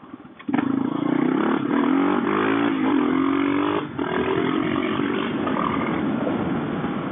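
A KLR650 dual-sport motorcycle fitted with a Mikuni carburetor accelerates hard, its loud single-cylinder engine note climbing steadily in pitch after a sudden start, with a brief dip before pulling on strongly to the end.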